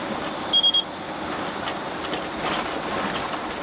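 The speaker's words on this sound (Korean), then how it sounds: "요 경고음이 이렇게 울리죠? 앞차가 출발했을 때." A Topsync M900UHD 4K dashcam gives a short alert when the car ahead pulls away: three quick, bright electronic beeps close together, heard over a steady hum of road and engine noise inside a truck cab.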